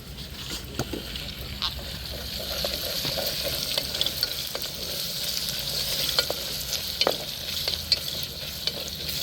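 Spoon stirring and scraping through sizzling mutton curry spices and onions frying in a pan, a low steady sizzle with repeated clicks and scrapes close by, no speech.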